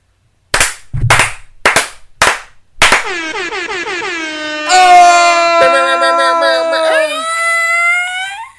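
Five loud, close hand claps in a loose rhythm, followed by a long sustained horn-like electronic tone that rises and swells in layered pitches.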